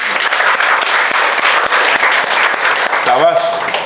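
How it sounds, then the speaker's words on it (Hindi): Students clap in a classroom during a physics lesson on Bohr's atomic model, steady dense applause throughout, with a voice briefly cutting in near the end. "तालियां बजा दीजिए इनके लिए।"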